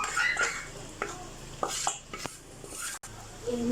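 Okra, onion and other vegetables going into a hot pan of oil seasoned with paprika and salt for a simple home dinner, with a soft sizzle, scattered clinks and stirring scrapes close by.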